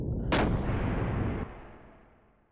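A cannon salvo fired from a ship in Xenogears: a single heavy, booming blast that holds for about a second, then decays into a fading rumble.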